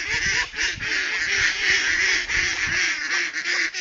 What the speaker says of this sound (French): les canards qui ont crié